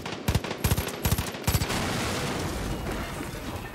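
Close automatic gunfire in the video game Far Cry 5 comes in four quick bursts of rapid shots, followed by a lingering rumbling echo that slowly fades.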